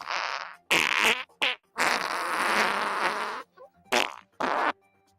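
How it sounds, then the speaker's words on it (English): A comedic farting-plane sound effect plays as a string of loud, close, buzzy fart noises, one long sustained blast between shorter bursts, with no talking. "Boeing has released its newest farting plane"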